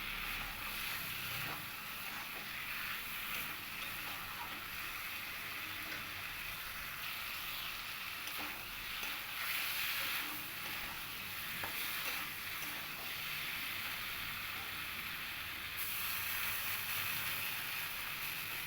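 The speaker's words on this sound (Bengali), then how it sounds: "মশলার সঙ্গে আমি আলু পটলগুলো ভালো করে কষিয়ে নেব।" Fried potatoes and pointed gourd sautéed with spices in a pan give a steady, soft sizzle with occasional stirring scrapes, close and continuous throughout with no talking.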